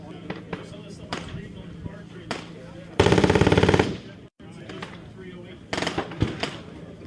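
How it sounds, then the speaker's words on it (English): A Ruger precision rifle firing at an outdoor range during a trade show industry day, with targets a little beyond 100 yards: a loud burst of rapid sharp cracks in the middle, amid other distant gunfire and range chatter. "She's fixing to shoot this precision rifle by Ruger."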